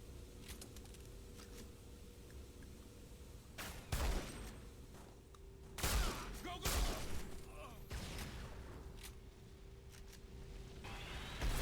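Gunfire in the video game SiN Episodes: Emergence, several sharp loud bursts of shots spaced across the clip over a low background, with a voice talking at times.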